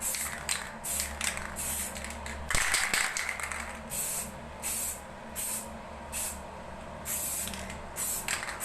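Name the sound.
spray painting black base coat on alloy wheel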